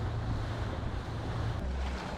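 A boat floats on the open sea near Koh Hong, Thailand, with a steady wash of water and wind rumble filling the short moment, even and unbroken, no voices.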